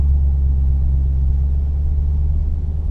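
A Dodge Scat Pack engine rumbles deep and steady as the ride begins, a loud continuous low idle filling the cabin with no talk over it.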